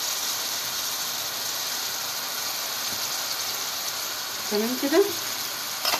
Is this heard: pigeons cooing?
no